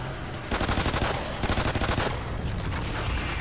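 Rapid bursts of gunfire crackle from a video game shooter, loud and dense, with repeated short volleys and steady firing and no talk over it.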